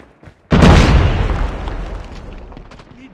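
A grenade blast in a video game: a sudden loud boom that rumbles and slowly fades over a couple of seconds, with a faint pop just before it and no talking.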